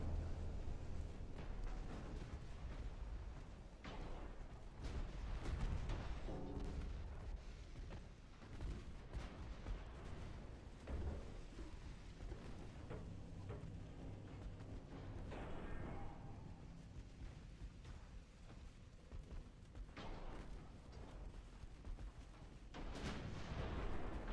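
Warship guns booming in Ultimate Admiral Dreadnoughts, repeated heavy blasts and rumbling impacts at irregular intervals across the battle, with no talk.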